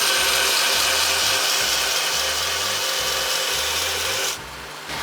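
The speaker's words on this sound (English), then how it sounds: "So now we're gonna grind in the center line at a 45-degree angle." A grinding machine cutting the center line of a knife bevel, a loud continuous abrasive hiss with a pulsing low rumble as the blade is worked in passes, dropping off near the end.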